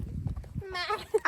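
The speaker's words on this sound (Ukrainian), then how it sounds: "Це у нас коза." A brief goat bleat rises near the end of the clip, following a moment of low rumbling background noise.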